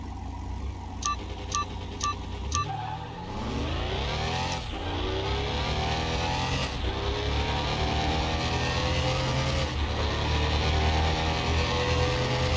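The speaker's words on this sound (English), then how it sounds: "See if we can still beat this engine. Supercharged V8." A supercharged V8 car engine in Car Mechanic Simulator 2021 revs up steadily after a few short electronic beeps, its pitch climbing and holding in a loud, continuous drone with brief shifts, no talk over it.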